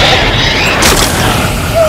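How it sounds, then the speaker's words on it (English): A giant explosion as the boss Mucktorok is defeated in the video game The Legend of Zelda: Tears of the Kingdom; a single loud booming burst midway over a continuous game soundtrack. "That's a giant explosion."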